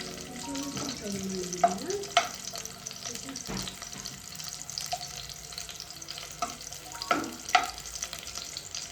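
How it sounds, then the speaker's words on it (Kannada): Chopped onion fries in hot oil as a tempering for a spicy chicken keema, a faint, low sizzle broken by a few clinks and stirring knocks from the pan. "ಸ್ವಲ್ಪ ಆನಿಯನ್ ಹಾಕೋತೀನಿ ಒಗ್ಗರಣೆಗೆ."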